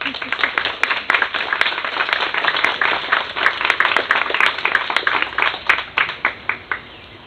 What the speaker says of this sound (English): give Lady Karen Jones Squires a royal applause